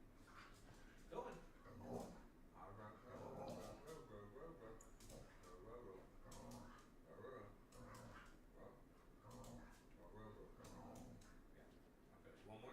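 A dog in the Final Fantasy XVI video game whimpers and gives small yips and soft barks, faint and repeated throughout, mixed with a voice talking.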